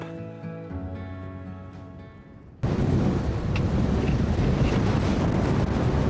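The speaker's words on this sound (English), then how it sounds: "That was a crazy wind as we drove on that section." Strong wind batters the microphone with a loud, roaring rumble that bursts in suddenly partway through and stays on, taking over from a quieter, tonal stretch before it.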